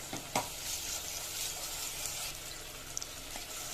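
Ginger garlic paste frying in a pan gives a soft, continuous sizzle with a few light clicks of stirring, fairly quiet and close.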